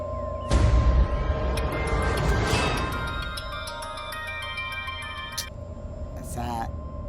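A phone ringtone for an incoming call plays as a repeating electronic melody of bright tonal beeps for a few seconds. It rises over a noisy indoor scene with a heavy thud at the start.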